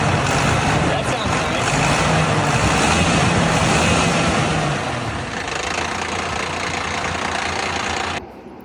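Diesel engine of a bus idling just after a fuel filter and water separator swap, a loud steady rumble with a low knocking pulse that eases slightly midway before cutting off near the end.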